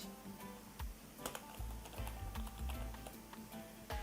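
Someone types code on a computer keyboard in quick, uneven runs of soft clicking keystrokes with brief pauses, close and moderately quiet, with no voice.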